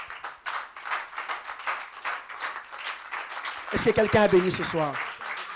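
A church congregation at a weekly Wednesday service claps in steady rhythmic applause, with a voice speaking over the clapping toward the end.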